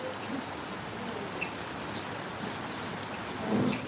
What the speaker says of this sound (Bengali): বৃষ্টিটা অনেকটা হালকা হচ্ছে আবার অনেক সময় মুসুল হারে হচ্ছে